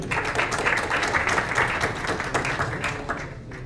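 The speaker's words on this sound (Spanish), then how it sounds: "Vamos a tener un aplauso para él, por favor." An audience applauds Dr. Edson Salazar at a presentation on alien mummies found in Peru, a dense, steady wash of many hands clapping for nearly four seconds before tapering slightly at the end.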